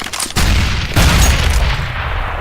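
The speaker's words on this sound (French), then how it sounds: "Grenade out." Grenade blasts in Counter-Strike: a short pop, then two heavy booming bursts that roll off with a rumbling tail.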